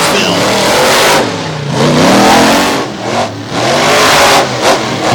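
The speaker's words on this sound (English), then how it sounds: "we get ready for the final 2 trucks down the track here at Evansville." Monster trucks race down the track at an outdoor Evansville show with a storm approaching, their engines roaring loud and close in sustained revving surges that dip briefly and climb again.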